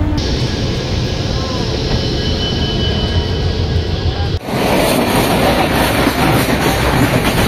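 A passenger train on the Mumbai Mail route rumbles steadily along the rails, heard loud from inside a carriage, with a continuous rushing roar and clatter that shifts abruptly partway through.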